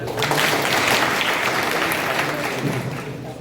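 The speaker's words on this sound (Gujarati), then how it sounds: "આપણે ફરી એકવાર તાળીઓથી વધાવીશું." Sustained applause from an audience at a Gujarati mother-language festival at a college of education in Mangrol, a dense, steady clatter of many hands clapping for the full stretch.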